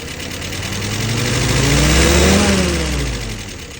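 An engine with a carefully tuned carburetor is revved as the throttle is pulled slowly, its note climbing smoothly to a peak and then falling back without any stumble, one clean rise and fall heard up close.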